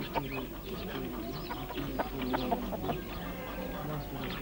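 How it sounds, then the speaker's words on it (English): Household hens clucking on a flat village roof in Turkey, several close birds making overlapping clucks and soft coos over a low steady background. "Flat roofs provide grazing for household hens."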